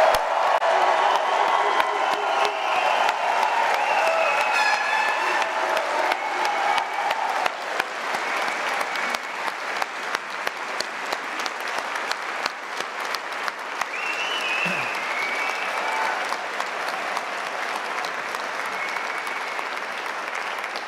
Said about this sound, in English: I invite our faculty, family, and friends to join me with a massive round of applause congratulating our graduates